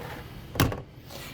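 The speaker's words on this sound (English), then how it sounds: "that means we can shut the door" A travel trailer entry door, a Heartland Pioneer BH250, is shut once, a single short thud with a faint rattle, fairly close and with no talk over it.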